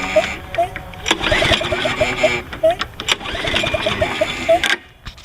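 Someone makes repeated cold-start attempts on a Toro Recycler lawn mower that has sat unused for a while, with the rhythmic whirr of the pull-cord starter and engine cranking that never settles into a steady run.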